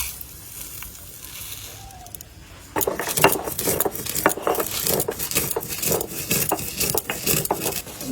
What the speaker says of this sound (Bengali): এখন আমি ভাজা মশলাগুলো বেটে নেব।